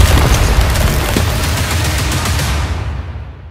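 A loud Diwali firecracker blast fills the outdoor air with a dense, roaring boom that rumbles steadily for about three seconds before fading out at the end, with no voices.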